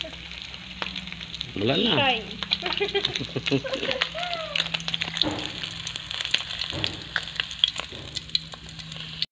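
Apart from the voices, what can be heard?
frying catfish (hito)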